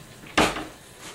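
A measuring cup scoops frozen mixed vegetables and pours them into a bowl, making one brief close rattling clatter of hard frozen pieces that fades quickly.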